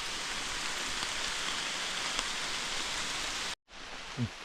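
Steady rain falls in a dense, even hiss on outdoor surfaces, fairly close and continuous, then cuts off abruptly near the end, leaving a quieter background.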